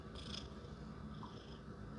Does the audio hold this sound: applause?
no